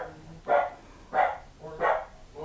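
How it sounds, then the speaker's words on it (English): A dog barks in the background, three evenly spaced muffled woofs roughly every two-thirds of a second over low room noise, moderately loud and somewhat distant, with another starting at the end. "my dog is just going to bark in the background"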